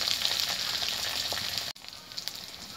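Potato and pumpkin pieces sizzle steadily in a hot pan, a dense, even crackle that cuts off abruptly partway through and resumes more quietly.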